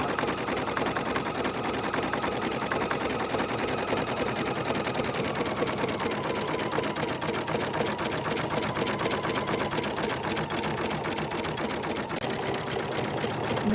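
An embroidery machine stitches a seashell design in rose gold metallic thread, a fast, steady mechanical chatter that runs unbroken and loud, close by, with no voices.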